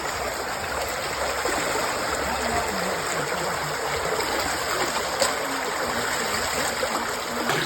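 Strong spring water at Binaliw Spring in Sogod, Cebu, gushing out of a large opening, a loud continuous rushing and splashing that fills the whole stretch, with no voices over it.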